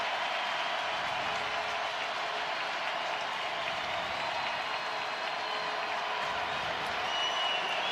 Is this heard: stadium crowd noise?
yes